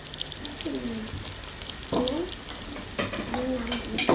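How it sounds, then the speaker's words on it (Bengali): Pre-boiled pieces fry in a pan on high heat, giving a steady close sizzle with occasional stirring scrapes and clatters. "এগুলো তো সিদ্ধ করাই সব, তো জটপট হাই হিটে ভাজা যায়"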